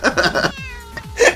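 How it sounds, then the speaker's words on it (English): A cartoon cat meows in a baseball video game, several short meows in a row over game sounds, then one longer, louder meow near the end. "Like this cat!"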